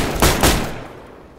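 Two rapid, loud gunfire bursts from a Vega gun fitted with a drum magazine in a video game, close and punchy, each decaying quickly into a fading tail.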